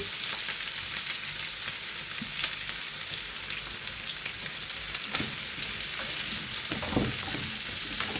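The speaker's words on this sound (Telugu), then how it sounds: "అవి వేసి బాగా ఫ్రై చేసుకోవాలండి, కొంచెం బ్రౌనిష్ కలర్ వచ్చేంత వరకు." Onions, green chillies, garam masala, cinnamon and cloves fry in hot oil. The sizzle is loud and continuous, broken now and then by stirring scrapes and crackles.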